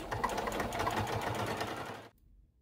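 A sewing machine runs steadily while basting a neckband onto a V-neck neckline, a close, busy mechanical whir and needle chatter that stops abruptly near the end, leaving quiet.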